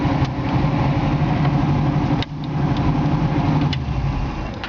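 1968 Camaro SS convertible engine idling, a steady loud low burble with a brief dip midway and faint clicks, close by and without talk.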